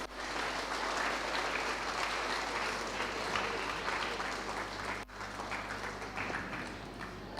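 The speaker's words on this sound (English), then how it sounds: "You indeed deserve a huge round of applause." An audience applauds performers at a school investiture ceremony with sustained, fairly quiet clapping that continues steadily, dips briefly, then carries on.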